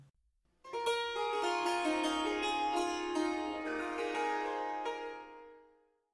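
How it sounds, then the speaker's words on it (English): A sitar rings out brightly and shimmering, with dense, buzzing overtones, sustaining for several seconds before fading away. "Here's a sitar."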